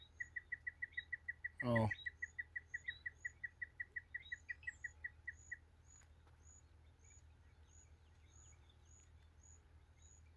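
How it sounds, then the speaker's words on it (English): Small birds chirping after Hurricane Melissa, a rapid run of evenly spaced high chirps for several seconds, then sparser calls, with a brief spoken exclamation and a passing low whoosh in the middle. "there's some smaller birds flying around"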